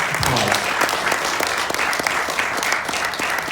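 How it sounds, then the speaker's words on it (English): An audience gives a round of applause at a university club talk, dense continuous clapping from many hands, fairly close and loud, holding steady for the whole stretch. "Can we give Dr. Annie McIntosh a round of applause?"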